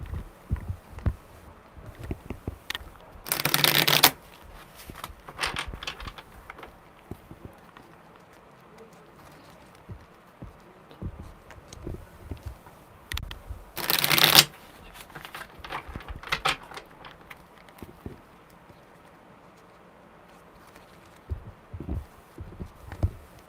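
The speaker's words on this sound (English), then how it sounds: "Okay, one more good shuffle." Tarot cards being shuffled during a live card reading, two loud riffling bursts a few seconds long separated by quieter handling and soft rustles, close to the microphone.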